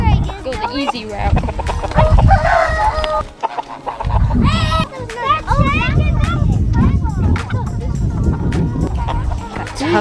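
Chickens and a rooster on a farm, clucking and calling repeatedly at close range, mixed with children talking throughout.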